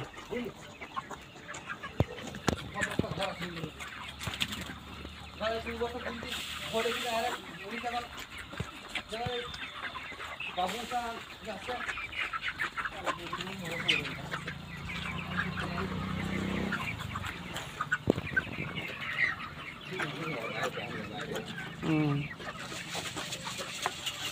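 Broiler chickens cluck steadily on a poultry farm, a busy mid-distance flock murmuring beneath an ongoing conversation between people.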